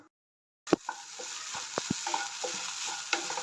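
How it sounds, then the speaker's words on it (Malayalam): After a moment of silence, ingredients for ginger kichadi sauté in a pan until golden, a steady sizzle broken by irregular scraping knocks of a spatula stirring. "നല്ല ഗോൾഡൻ കളർ ആവുന്നത് വരെയും നമ്മൾ വഴറ്റിക്കൊണ്ടിരിക്കണം"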